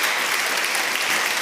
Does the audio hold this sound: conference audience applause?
yes